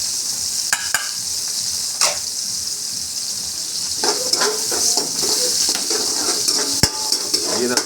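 Ginger and garlic sauté in hot oil in a wok, a bright steady sizzle broken by sharp clinks and scrapes of a metal utensil against the pan, close and fairly loud, with no talking.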